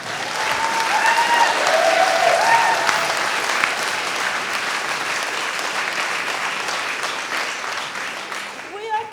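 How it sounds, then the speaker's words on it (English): A crowd at a 2017 Stroud parliamentary candidates' hustings debate gives loud, sustained applause that swells early, holds steady, then thins toward the end. "During the applause, the timer went."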